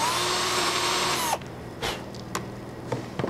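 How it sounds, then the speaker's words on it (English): An electric drill bores a hole to be tapped for model hardware, giving a steady, loud whine for about a second before it stops abruptly, followed by a few faint clicks and handling knocks. "Then you go ahead and drill it."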